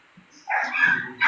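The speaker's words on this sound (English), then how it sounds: "my dog was barking" A dog barks close by in a couple of loud, sharp bursts, the second coming right at the end after a short pause, with nobody speaking over it.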